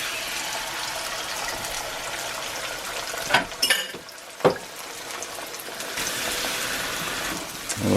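Eggs frying in a cast iron pan give a steady sizzling hiss. A couple of sharp clatters of utensil or pan handling break in midway before the sizzle resumes at full strength.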